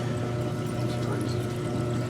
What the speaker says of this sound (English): Washer's draining.